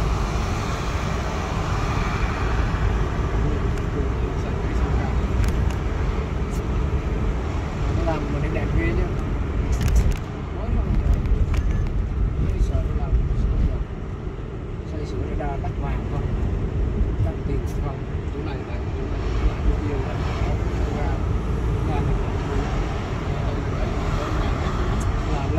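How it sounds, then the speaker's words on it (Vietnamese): Riding a motorbike through traffic in Vietnam, with a continuous engine and wind roar, passing vehicles and occasional horn-like bursts, and voices talking faintly underneath. "Đi xe máy"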